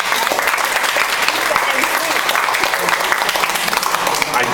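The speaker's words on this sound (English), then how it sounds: "he really deserves the biggest round of applause" A crowd at a retirement party applauds steadily, dense clapping filling the space without a break, loud and close.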